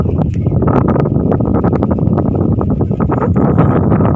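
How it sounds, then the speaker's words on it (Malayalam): Strong wind buffets the microphone in loud, rumbling gusts, with gritty bursts of noise throughout, outdoors by the water at Tripunithura. "നല്ല കാറ്റ് നല്ല അന്തരീക്ഷം"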